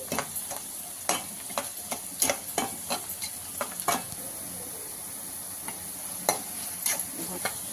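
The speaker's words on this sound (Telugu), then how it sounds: "ఇంకొంచెం బ్రౌన్ కలర్ రావాలా, ఇలా వేయించుకోవాలండి ఆనియన్స్." Onions fry in a pan for chicken fry, browning under a soft, continuous sizzle while a spatula scrapes and clicks against the pan in quick, irregular strokes, close up with no voices.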